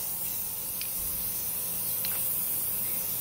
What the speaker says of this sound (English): we're going to spray paint these shells with our orange spray paint